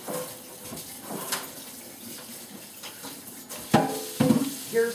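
Water runs steadily from a tap into a sink, a soft continuous wash with a few louder splashes and bumps near the end, with no talking.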